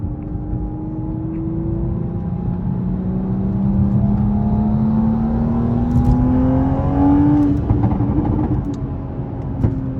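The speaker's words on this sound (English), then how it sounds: "it makes my exhaust a little more aggressive" A manual Toyota Supra with a catless downpipe hums and slowly climbs in pitch as it revs, a steady rising drone with a deep exhaust tone, moderately loud.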